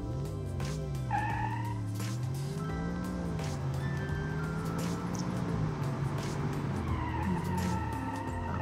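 A police car in the BeamNG driving game accelerates hard through an acceleration test, its engine note climbing and falling in smooth sweeps across several gear changes, with a high tire squeal cutting in along the way.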